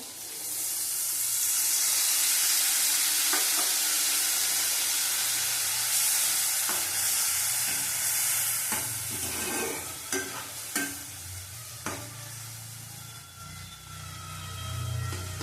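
Ground spice mix of ginger, cumin, turmeric and Kashmiri chilli powder sizzling and frying steadily in a pan over low heat, with repeated scraping stirs and clinks of a spoon against the metal, no voices.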